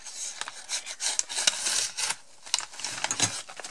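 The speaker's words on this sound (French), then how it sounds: "je vais peut-être ouvrir avec les ciseaux" Scissors cutting open a paper envelope, a close rasping, scraping run of short snips and paper rubs in irregular bursts, with no talking.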